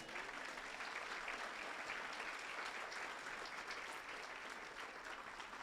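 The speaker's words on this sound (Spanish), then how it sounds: "pueden dar un aplauso" A church congregation applauds steadily, the dense clapping sounding distant and faint and carrying on evenly without talk.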